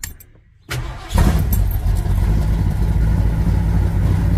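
A 1973 Ford Torino's engine cranks briefly, then catches and settles into a loud, steady, rumbling idle close by.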